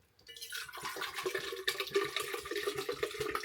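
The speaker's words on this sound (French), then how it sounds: "Je vais la remplir de cristalline, c'est mon eau." Cristaline bottled water poured into an empty reusable bottle, with a close, steady gurgling splash that rises and rattles unevenly throughout.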